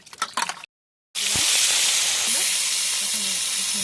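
Fish pieces frying in hot oil, a loud, steady broadband sizzle that starts abruptly after a short silence, preceded by a brief burst of clattering and voice.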